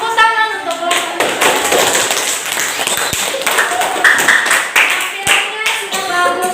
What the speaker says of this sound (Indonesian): Terima kasih dan tepuk tangan untuk kelompok 3.